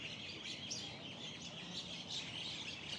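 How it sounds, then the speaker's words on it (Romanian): Birds chirp and squabble at a busy gastromarket food hall, a dense continuous twittering of many birds over steady crowd murmur, with no clear individual voices. "păsările astea se ceartă"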